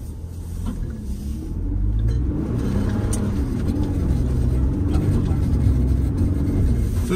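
Car on Yokohama X-AT tires spins donuts in snow, its engine rumbling and revving steadily with tires churning, the ABS pulsing faintly under the steady drone, heard from nearby without talk.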